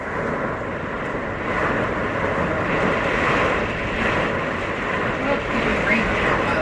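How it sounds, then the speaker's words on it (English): Very strong wind buffets a full-time RV with a window awning, producing a loud, steady roaring rush with slow surges and no breaks. "That is incredibly strong wind."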